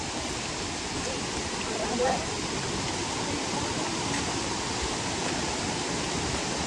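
Water rushes steadily at a bathing spot in Nuwara Eliya, a constant broad hiss and roar of flowing water, close and even, with no break across the whole stretch.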